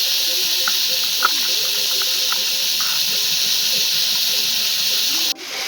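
Ground chili paste of dried and green chilies sizzling in a hot pan for a village-style potato and cauliflower fish curry, a steady bright hiss, close and loud, that drops abruptly near the end.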